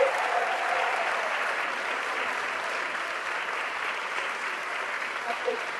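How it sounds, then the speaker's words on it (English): A council chamber audience applauds steadily through a sanctuary cities ordinance meeting in Cathedral City, a dense even wash of clapping at moderate distance with a faint voice underneath near the end. "So now you can clap."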